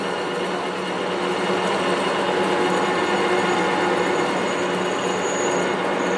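Continuous loud drilling from power tools during a hands-on practical class, a steady mechanical whir filling the room with no pauses and no talk.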